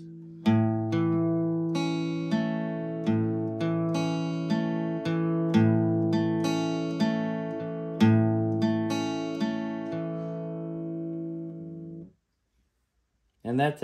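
An acoustic guitar plays the intro of a song, a steady run of plucked notes over a ringing chord, each pick bright and close, before the sound stops dead near the end.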